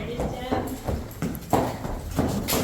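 Hooves of Soviet draft horses at the Pochinkovsky Stud Farm clip-clop in a steady walking rhythm under people talking nearby.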